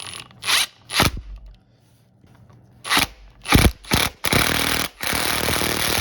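A ratchet tightening a part on a 2007 Yamaha YZ85 dirt bike engine, loud close bursts of rapid clicking separated by short pauses, ending in a longer sustained run of ratcheting.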